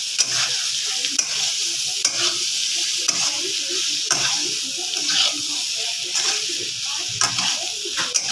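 Potatoes frying in a pan and being turned over, a constant sizzle with rhythmic scrapes and clicks of a spatula about once a second, close and without talk.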